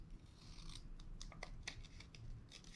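Scissors snip off paper scraps up close, a quick run of crisp cuts and rustles, faint and clear against a quiet room.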